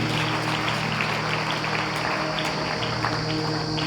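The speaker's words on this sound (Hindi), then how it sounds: "प्रभु में तालियां बजाकर महिमा करे परमेश्वर की" Clapping in praise at a Sunday church meeting, a moderate crowd of hands beating steadily through a reverberant hall, layered over a constant low electrical hum and a steady tonal drone, with no speech.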